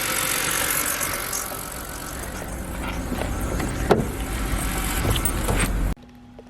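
A 2006 BMW E90 engine idles roughly with a steady, fairly loud mechanical rumble and a small clunk partway through, close by, no talking, cutting off abruptly near the end.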